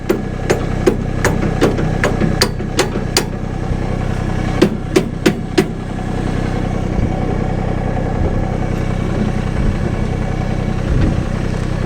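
Sharp metallic hammer taps on a hitch pin ring out in a quick series, then a short second burst, over the steady drone of a Massey Ferguson GC1723E tractor idling nearby.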